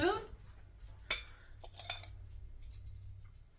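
A metal spoon clinks sharply a few times against a container while dry yeast is measured out, the light taps near and fairly quiet over a low background hum.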